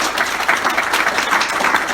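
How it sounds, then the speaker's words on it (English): An audience applauds for Bob at a talk, a dense steady wash of many hands clapping at close range, sustained evenly for the whole stretch with no voices rising above it. "let's give Bob a big round of applause"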